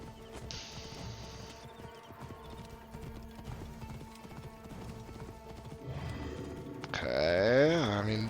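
Galloping horse hooves in the Assassin's Creed Origins video game, a steady clip-clop running under game music and background noise, with a horse whinny and louder action near the end.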